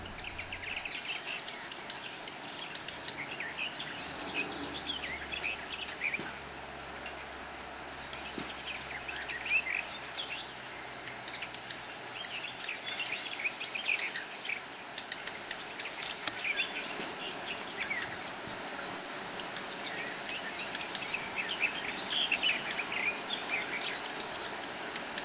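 A nightingale mother feeding her young amid steady outdoor birdsong: continuous bright chirps and calls at moderate distance, with a faint insect-like hum beneath and no talking.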